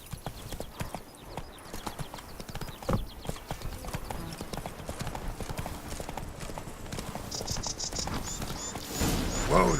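Roach, Geralt's horse in The Witcher 3 video game, gallops with a rapid, steady clip-clop of hooves close by, and a brief higher cry rises near the end.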